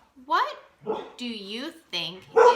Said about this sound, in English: I apologize. That's my dog.